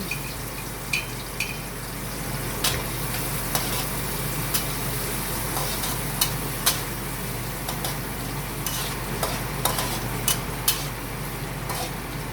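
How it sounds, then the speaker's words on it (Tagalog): Ginger and garlic sautéing in a pan at home, a steady soft sizzle under scattered sharp clicks and taps of a utensil stirring against the pan, fairly close and with no talking. "Ginisa na natin yung luya, no?"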